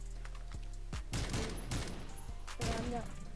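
Shotgun blasts ring out in a zombie film, several sharp bangs spread unevenly across a few seconds over a steady background hum.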